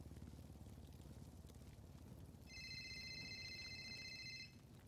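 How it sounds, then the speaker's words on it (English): A phone rings partway through with a steady electronic ringtone for about two seconds, then stops, over a low indoor background rumble. "if you don't mute that fucking phone"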